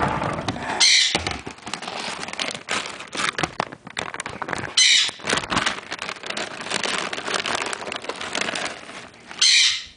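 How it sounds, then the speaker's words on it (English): A pet conure parrot in an indoor animal room gives loud, piercing chirps in three short bursts over a noisy, rustling background. "I'm just going to feed my conure so he stops chirping."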